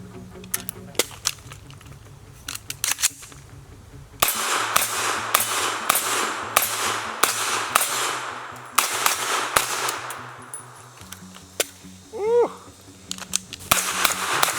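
A Troy A4 9mm direct-blowback rifle fires a long series of sharp, loud outdoor shots, singly and in quick strings, with gaps and faint background noise between bursts.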